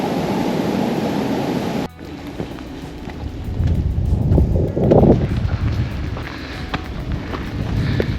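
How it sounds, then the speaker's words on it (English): Steady rain and gusty wind roar outdoors at the Magpie Mine ruins in Derbyshire, with a brief cut partway through, then rougher buffeting wind rumbling against the microphone. "it's just started raining again."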